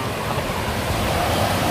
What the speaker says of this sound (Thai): วันนี้ได้มาเล่นน้ำตกนะครับได้มาเล่นน้ำตกจริงๆจัง